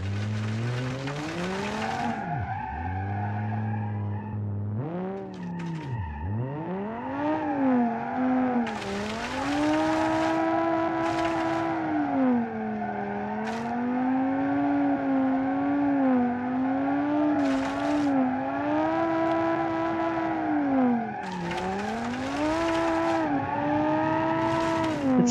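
A drift car's engine revs continuously, rising and falling in pitch as it accelerates and eases off, with occasional tire squeal; loud and close in a racing game with no talk.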